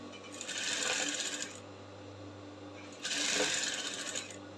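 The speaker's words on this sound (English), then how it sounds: "when you are sewing your yoke mesh, don't back stitch" A sewing machine stitches a yoke neckline in two separate runs of rapid whirring, each about a second and a half long, with a quiet pause between them.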